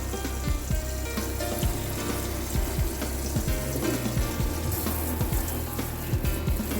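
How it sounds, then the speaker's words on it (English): Boiled chitterlings are rinsed after the first boil's water is poured off, giving a steady rushing wash of running water with splashing and wet sloshing throughout, with no voice. "now I just poured them off the first boil, off that water, and rinsing them off"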